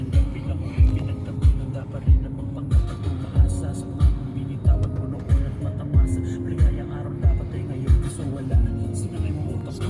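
Road traffic heard from inside a new car, a rhythmic thumping of tyres over road joints with engine hum and passing vehicles, steady and fairly close.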